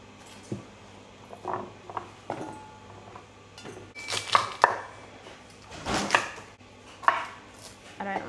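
Garlic is chopped on a cutting board for bone broth in a home kitchen, with irregular sharp knife strikes, some in quick bursts, close and fairly quiet.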